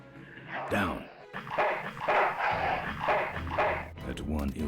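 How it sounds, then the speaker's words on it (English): Guard dog in the point-and-click game Full Throttle Remastered barks and snarls in several rough bursts, close and fairly loud, with a character's voice speaking over parts of it. "Yeah, so they have a guard dog."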